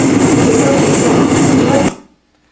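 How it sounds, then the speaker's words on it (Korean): A subway train roars loudly through a Seoul metro station at Daebang or Noryangjin, a dense rumbling wash of rail noise that cuts off abruptly near the end, with no announcement audible over it. "지하철역에서 들리는 안내방송입니다"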